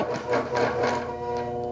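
Sewing machine stitching fabric for a tree wall-hanging, a short burst of rhythmic mechanical whirring and clicking at moderate level, settling into a steadier hum.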